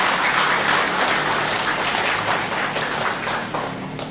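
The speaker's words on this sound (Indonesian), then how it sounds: "Tepuk tangan." A religious study gathering's audience breaks into loud, dense applause, a continuous wash of many hands clapping that holds steady and then slowly tapers off.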